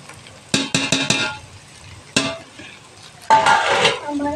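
Rice being mixed with masala powders in a pan, a burst of rapid metal spoon scrapes and clanks, a single knock, then another scraping stir, near and fairly loud with a faint sizzle underneath.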